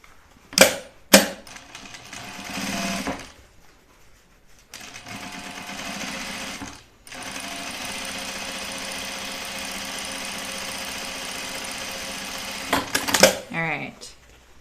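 A sewing machine stitches through jeans in two sustained runs, a rapid, close mechanical whir with clicks and knocks at the start and end. Brief bursts of voice come between the runs.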